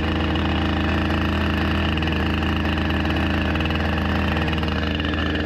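A chainsaw engine idles right after its first pull start while cutting firewood, a loud, steady, close-up rumbling drone that holds an even rhythm throughout, no talking.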